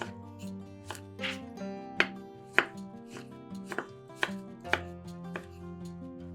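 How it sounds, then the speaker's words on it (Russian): A knife cuts a tomato on a board into slices and then small cubes in sharp, fairly regular strokes, about a dozen cuts, over soft background music. "помидор нарезаем сначала на пластинки, а затем пластинки режем небольшими кубиками"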